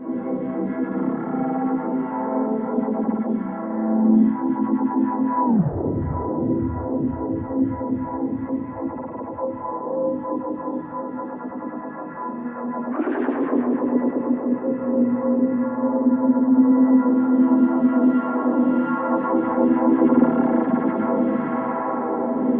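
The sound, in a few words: reverb with rhythmic modulation automation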